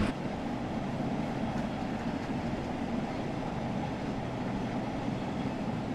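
A London Overground train on the Suffragette line in Train Sim World 4, running through suburbs with a steady low rumble and rolling noise, constant and unbroken throughout.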